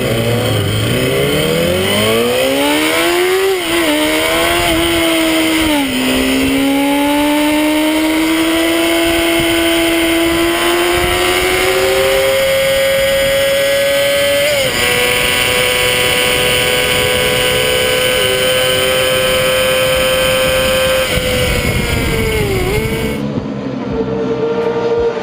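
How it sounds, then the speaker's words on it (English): A stock Honda CBR250RR inline-four revs hard toward its 19,000 RPM limiter, climbing in repeated rising sweeps, holding a shrill high-pitched wail and dipping between pulls, loud and close with no talking. "And that, my friends, is a stock rev limiter."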